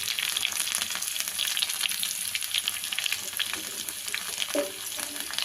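Onions frying in a ladleful of hot oil with tempering seeds in a heated pan, for spinach dal: a steady, close crackling sizzle with occasional stirring scrapes, loud and continuous throughout.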